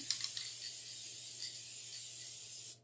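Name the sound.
spray can spraying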